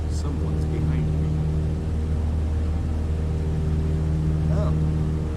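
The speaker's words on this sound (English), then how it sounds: "you can't hear me over the engine noise" A steady droning aircraft engine hums in Microsoft Flight Simulator during a flight over Maui, a constant low, even tone holding unchanged at close range throughout.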